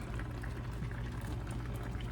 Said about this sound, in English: you see my sweet potatoes are boiling